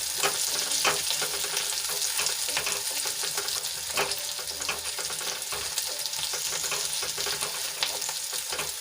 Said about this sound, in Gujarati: છ થી સાત લસણની કળી લીધી છે એને એડ કરી દઈશું અને સરસ રીતે મિક્સ કરીને આપણે થોડાક સંતળાવા દઈશું